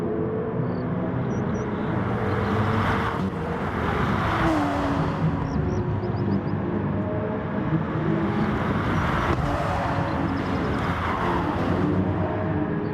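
Race car engines roar continuously in a sim racing game at Autopolis during an endurance race replay, loud sustained engine drone with rising and falling revs as cars pass, no talking.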